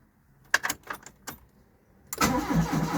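A classic car with its choke fully on cranks with several short starter turns, then the engine catches and roars into a loud, steady run close by, with no talk.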